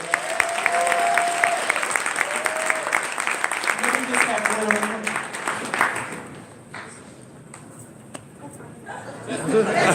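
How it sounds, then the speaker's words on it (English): Audience at a community breakfast event applauds the kids, a dense burst of clapping with some cheers under overlapping voices, thinning out after about six seconds before swelling slightly again at the end. "let's give the kids a round of applause"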